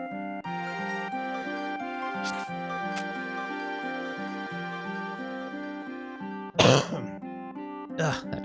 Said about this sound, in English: Ugh, that cough.